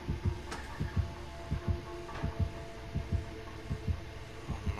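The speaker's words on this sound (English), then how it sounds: "The heartbeat going away." Rhythmic heartbeat from the horror game Dead by Daylight, a steady series of deep, loud double thumps over a low hum, with no voices.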